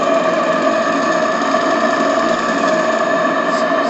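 Steam-driven donkey pump, the Petit Cheval, running under low steam pressure around 1 bar: a continuous, steady mechanical chugging and rattling hum, close and fairly loud, with a fast, even rhythm.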